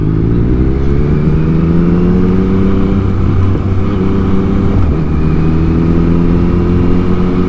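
A motorcycle engine drones loud and close, holding a steady, low rumbling tone throughout with no clear rev spikes or cutout.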